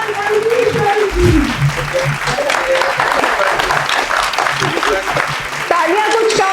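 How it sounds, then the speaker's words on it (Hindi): An audience applauds at an actors' awards event in a mall cinema, with continuous loud clapping under an amplified voice and background music. "Please welcome a huge round of applause, Ma'am Amarnath Ranveer ji"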